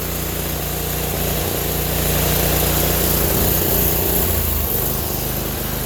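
An old 4HP diesel engine running rough on only two cylinders at high RPM, a loud, continuous close-up drone with a buzzing mechanical rattle and no talk.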